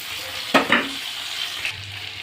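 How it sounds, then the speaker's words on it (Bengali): Onion frying lightly in a pan, a soft continuous sizzle with a brief louder burst of crackle and stirring near the start, close by with no voices. "পেঁয়াজটা বেশি ভাজবে না, হালকা করে ভাজবে।"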